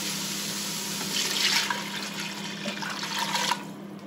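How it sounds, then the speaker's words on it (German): A liter of water poured into a pot of potato goulash, a steady splashing gush lasting a few seconds at close range. "Dann geben wir unser Liter Wasser dazu."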